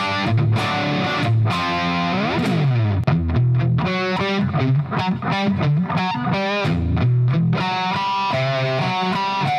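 An 80s-style distorted electric guitar tone through a Hughes & Kettner Black Spirit 20 amp, recorded in mono, plays loud, dynamic riffs with bends, sustained notes and quick picked runs, alone without talk.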